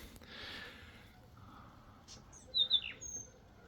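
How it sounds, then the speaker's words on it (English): A small bird sings in a summer garden: a few quick, bright chirps near the end, moderately close, over a faint outdoor background with no talk. "A nice bird sound."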